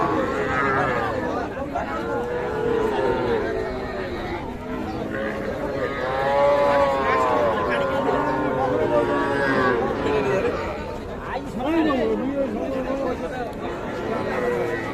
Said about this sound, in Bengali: ছোট ছোট বকনা বাছুর।